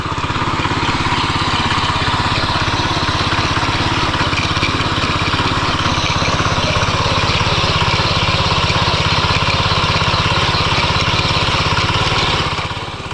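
A new eight-blade farm tiller runs close by, its engine droning loudly and steadily without pause for the whole stretch.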